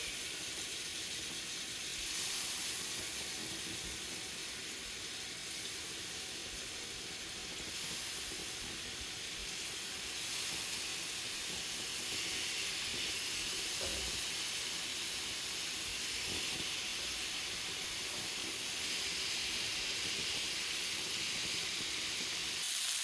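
Chicken satay skewers cooking on a hot cast iron grill give off a constant, even sizzling hiss that holds steady for over twenty seconds with no talking.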